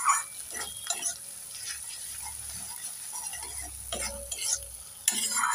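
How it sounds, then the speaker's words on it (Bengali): Turmeric and chilli powder being stirred and fried in a pan for a crab curry, with a steady sizzle and repeated scraping strokes of a spoon, close and moderately loud, no talking. "একটু নেড়ে চেড়ে মশলাগুলোকে 3 মিনিট ভালোভাবে কষে নেব।"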